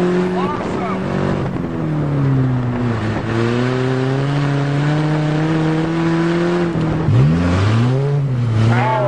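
A Saturn car engine revving on a farm holds a steady, loud drone that rises and falls, with a voice speaking over it.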